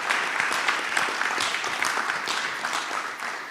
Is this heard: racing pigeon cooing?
no